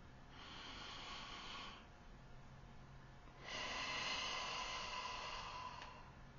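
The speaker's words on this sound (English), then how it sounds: "take a deep breath with me" Two slow, deep breaths drawn in at a calm, unhurried pace, each a soft, airy rush lasting a second or two, close to the microphone and faint, with no talking.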